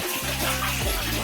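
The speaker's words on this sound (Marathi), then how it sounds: "आताच आंघोळ करू." Water runs for a bath in a steady, close, continuous gushing hiss with no voices over it.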